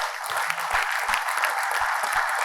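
An audience at an award ceremony gives continuous dense applause to welcome an honoree, steady and fairly loud throughout with no talk over it.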